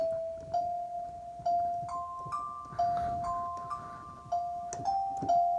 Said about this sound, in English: I wanted to layer it up with some other sounds. So I was thinking like a little bell